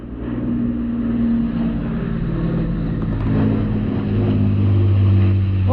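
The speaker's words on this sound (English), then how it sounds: "It's a Lancaster bomber." Lancaster bomber passing overhead during an airsoft game, a steady deep engine drone with layered low propeller tones holding loud and continuous throughout, slightly swelling toward the end.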